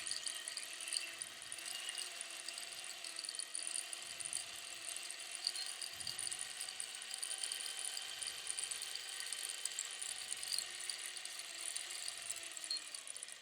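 A longarm quilting machine basting a quilt top, giving a steady mechanical whir with a soft, even stitching rhythm that runs continuously at moderate, close level, with no talking.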